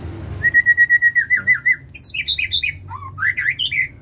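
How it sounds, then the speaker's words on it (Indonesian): A young male fighter songbird in a new cage calls loudly up close: a rapid run of repeated whistled notes followed by bursts of shrill squawking chirps, with no other sounds. "Pejantan fighter, asal mendengar suara burung-burung baru dan dia di tempat yang baru, pastinya bakal seperti itu"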